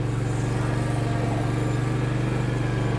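A 2023 John Deere Z530R zero-turn mower runs at a steady engine drone while being driven, a continuous low hum with even pulsing throughout and no talking.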